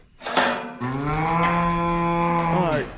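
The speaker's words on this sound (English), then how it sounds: "now you got 2 cows in there with you" A cow moos loudly and close inside a livestock trailer, one long sustained low call that rises at the start and falls away at the end.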